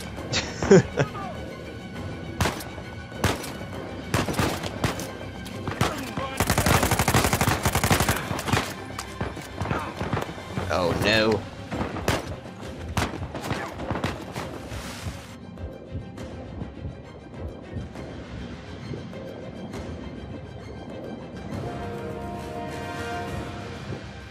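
Shotgun blasts and other gunfire ring out in Uncharted 4 at New Devon: sharp broadband bursts, then a dense rattling volley in the middle, mixed with game effects and voices.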